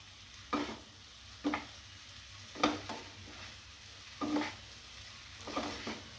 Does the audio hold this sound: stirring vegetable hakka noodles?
yes